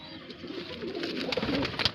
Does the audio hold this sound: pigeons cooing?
yes